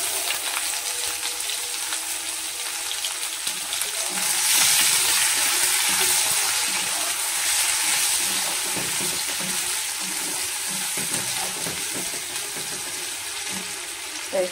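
Onion fries in oil in a pan for fish curry, a soft, steady hissing sizzle that swells briefly partway through and carries on without speech.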